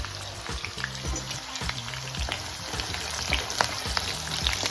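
Onion, green chilli and garlic frying in hot oil for restaurant-style chicken noodles, a quiet crackling sizzle with scattered pops and low stirring knocks, heard alone without speech.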